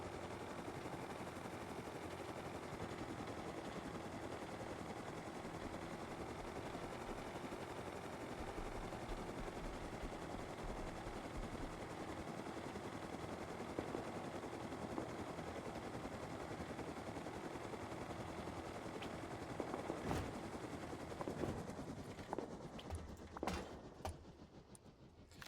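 Helicopter flying in a video game, a steady low rotor drone with constant whirring hum throughout, followed near the end by a few sharp bangs.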